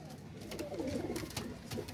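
Umbrella-crested pigeons coo softly and steadily at close range, a low, rolling, repeated murmur with faint background noise.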